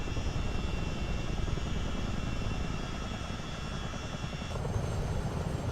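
Heavy twin-rotor thump of a Chinook helicopter settling onto a warship deck in a flight simulator, a loud steady rotor and engine roar running unbroken throughout with no voices.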